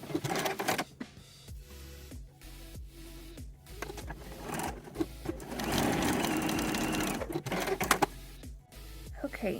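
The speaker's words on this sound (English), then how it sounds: "lay them the wrong sides together like this and then baste along the sides." A sewing machine basting fabric along the sides of a garment, running in close bursts with pauses between runs and a longer steady stretch in the middle.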